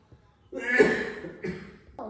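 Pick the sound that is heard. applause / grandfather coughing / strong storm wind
grandfather coughing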